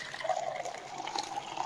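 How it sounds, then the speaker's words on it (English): Water poured into a bowl holding a silica and clay mixture while making molding sand, a soft steady trickle and splash lasting under two seconds, fairly quiet and alone. "Then we add some water in this silica clay mixture"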